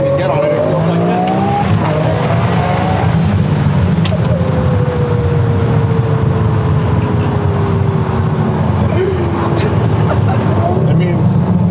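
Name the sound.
Gintani twin turbo Lamborghini Aventador SV engine accelerating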